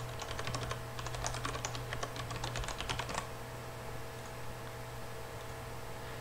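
Fast, close clicking of a computer keyboard as an email address is typed into a registration form, steady keystrokes for about three seconds before falling quiet over a constant low hum.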